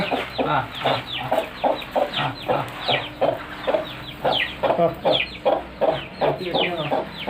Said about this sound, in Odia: ଏଠି ଗୋଟେ ମାଇ କୁକୁଡ଼ାଟା ଅଛି।